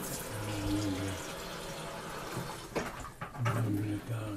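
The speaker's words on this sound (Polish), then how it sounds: "Dobrze, nastawimy wodę." Water running from a tap into a kettle, a steady rushing flow with a few clunks and handling sounds toward the end.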